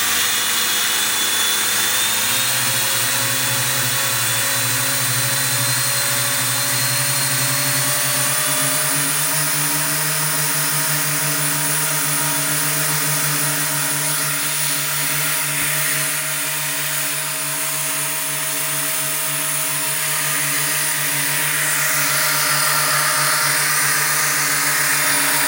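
An E-flite UMX B-17G Flying Fortress RC model plane's electric motors run at high throttle, giving a steady, loud whine that climbs in pitch early on and then holds, with no talking.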